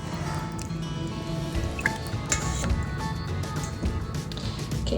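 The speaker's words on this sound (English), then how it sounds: "Okay, I've got my curds draining." Whey drips and trickles steadily from draining homemade cheese curds, a soft continuous wet patter with occasional louder drops, close by with no talking.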